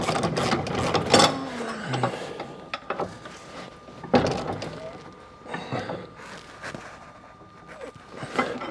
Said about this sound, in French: On attrape la clé de 24. La clé à douille.